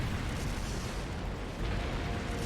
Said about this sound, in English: Tank just shot at us.